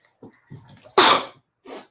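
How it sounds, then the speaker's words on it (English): A single loud sneeze bursts out after a couple of quick breaths, followed by a softer exhale or sniff. "I'm going to sneeze."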